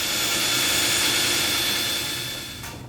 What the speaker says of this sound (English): I'm going to go ahead and start a couple starter holes.